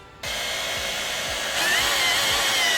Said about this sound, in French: Je vais le percer à droite en fait